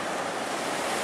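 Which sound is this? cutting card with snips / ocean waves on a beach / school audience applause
ocean waves on a beach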